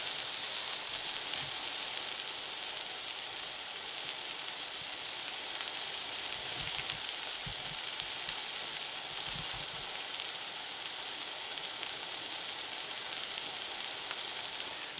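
Homemade hamburger patties topped with cheese sizzle on a griddle, a steady close, bright hiss of frying that continues throughout with faint low bumps and no talking.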